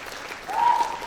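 Applause from the audience at a local food festival and menu competition in Siak Regency, a brief burst of clapping swelling after a quiet start, with a faint tone ringing over it.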